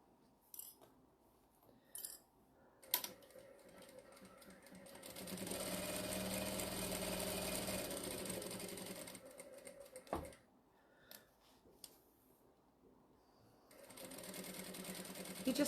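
A sewing machine stitches a fabric tote bag in one steady, continuous run of several seconds, bracketed by quieter handling clicks and a brief burst of stitching at the end.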